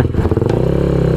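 Motorstar Xplorer Z200S motorcycle engine catching and settling into a steady, loud idle close by, with a brief clatter as it starts.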